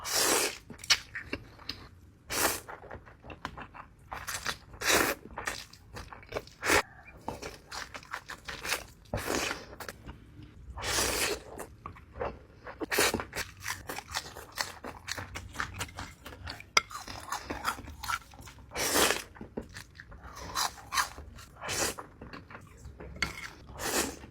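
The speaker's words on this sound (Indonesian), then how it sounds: "aku paling suka dendeng yang kriuk kayak gini, pakai sambelnya" Crunchy dried beef dendeng with chili sambal being chewed alongside Indomie goreng noodles, giving repeated close, sharp crunches and bites mixed with utensil and dish clinks throughout.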